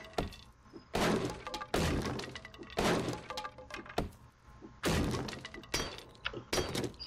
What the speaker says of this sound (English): Break another metal layer.